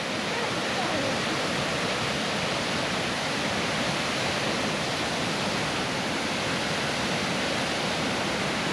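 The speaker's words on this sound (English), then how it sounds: "Max, you like the waterfall too?" Youngs River Falls in Oregon in autumn, a steady, loud rush of falling water heard up close in cold mist, unbroken broadband roar throughout.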